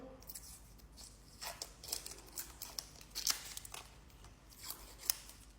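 A big kitchen knife cuts and peels what is probably an onion in a home kitchen while Gozleme is being made, giving soft scraping and slicing strokes with a few sharper snips, close over a low background hum.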